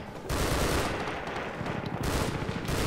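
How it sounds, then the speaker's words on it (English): Distant gunfire in a Half-Life 2 cinematic mod, rooftop combat: a continuous rattling wash of automatic fire and explosions, steady and fairly loud, heard alone. "Head towards the gunfire, I suppose."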